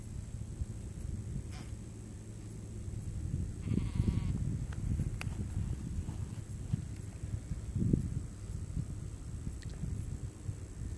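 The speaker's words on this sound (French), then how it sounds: "Eh ben, bravo les moutons." Salt-marsh sheep at Mont Saint Michel, some shorn and some not yet shorn, bleating a few times at moderate distance over a soft outdoor wind hiss, with no talking.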